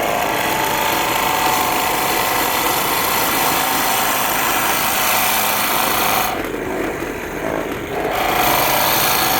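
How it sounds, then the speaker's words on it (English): A drill grinds steadily and loudly into wood while boring a wooden eagle whistle, with a short lull in its high whine partway through before the drilling resumes. "I know all I'm doing is drilling a hole"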